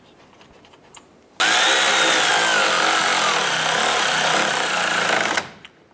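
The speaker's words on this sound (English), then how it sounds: "Once those are all started, let's go ahead and snug those down." A power tool drives the fine-thread bumper support bolts on a 2011-2018 Dodge Ram 1500: one loud, steady burst of about four seconds, close and alone, with quiet handling noises before and after.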